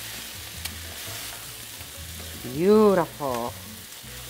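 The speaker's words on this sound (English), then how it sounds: "Now I'm gonna put my potatoes back into the skillet. I'm gonna toss these together." Potatoes are tossed back into a skillet with oregano for cheesy potatoes with green chiles, a soft steady sizzle and stirring under the room, briefly interrupted by a spoken word.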